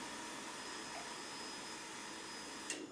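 Fuel pump priming on a 2003 Yamaha R6 motorcycle after a new battery is installed: a steady, faint whirring hum holds throughout, ending in a brief click near the end.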